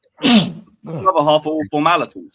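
One sharp, close sneeze bursts out at the start, followed straight away by someone talking about football club finances.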